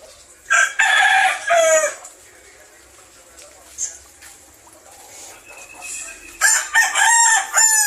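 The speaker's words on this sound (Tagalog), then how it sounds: "Shout out sa manok." A rooster crows loudly and close by at a home that breeds fighting fish, two full crows near the start and end with quieter clucks and someone speaking between them.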